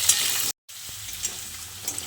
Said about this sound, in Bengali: তেলটাকে ভালো মতো গরম করে নিয়ে এবার কেটে রাখা আলুগুলো দিয়ে দিচ্ছি